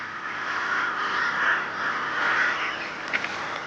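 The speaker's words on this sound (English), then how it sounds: "These crows are not about to stay and pick a fight." Crows cawing harshly and continuously outdoors, several birds overlapping at moderate loudness, with a few sharper calls near the end.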